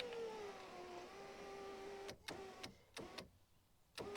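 New power window motor in a Chevy door running the glass, a steady whirring hum that drops in pitch and ends, followed by several sharp clicks and knocks.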